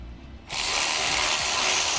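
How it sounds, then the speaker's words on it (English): A ratchet tightens the U-bolts that hold the leaf springs on a CE Smith Multi Sport Plus boat trailer, giving a loud, close, continuous rapid clicking that starts abruptly after a brief quieter moment, with no talking. "Now we can go ahead and tighten up our U-bolts so that our leaf springs are safely secured."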